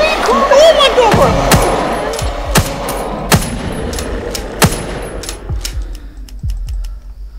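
Rapid gunfire in the horror video game Folklore Hunter, a string of sharp loud shots spaced unevenly and fading toward the end, with a voice briefly heard early on.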